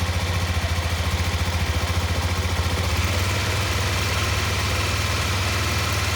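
A motorcycle engine runs steadily with the clutch held in the friction zone and no throttle applied, a loud, even low rumble with a constant pulsing beat and no talking throughout.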